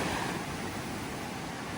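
Black Sea surf at a beach in Kurortne, Odesa region, in July washes in a constant broadband roar, mixed with wind buffeting the microphone and no voices.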